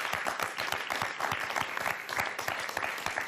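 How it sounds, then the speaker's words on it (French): Applause at a slam poetry event for a performer named Dominique: a close, lively crowd claps vigorously and steadily throughout, with sharp individual claps standing out. "On applaudit Dominique encore très très fort."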